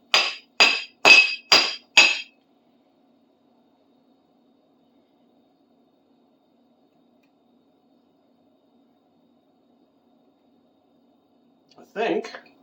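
A squished screwdriver tip is hammered straight on an anvil: five sharp, loud metallic strikes in quick, even succession, then a long silence broken near the end by a brief muffled knock.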